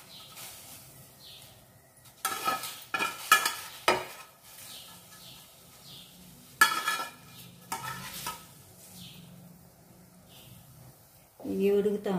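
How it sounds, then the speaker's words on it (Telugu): Okra pieces dropped into a cooking pot in a home kitchen, heard as a few bursts of clattering and splashing with stirring scrapes, close and separated by quiet stretches. "ఇప్పుడు బెండకాయ ముక్కలు కూడా ఇందులో వేస్తున్నాను"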